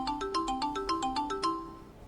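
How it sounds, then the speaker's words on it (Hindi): A phone ringtone plays a repeating melodic pattern of bright electronic tones, fairly close and steady, with no talking over it. "सर आपका फोन आ रहा है"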